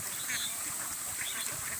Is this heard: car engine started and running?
no